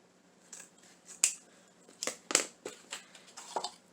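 Scissors cutting material for a Dollar Tree DIY bow, a series of close, crisp snips and crunches spaced irregularly over a few seconds, fairly quiet with no talking.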